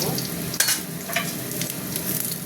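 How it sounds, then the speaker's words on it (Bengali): Potatoes fry in oil with a dense, close sizzle, punctuated by a few sharp scraping clicks of a spatula stirring in the pan. "আলুটা ভাজা হয়ে গেছে বন্ধুরা আলু তুলে নেব"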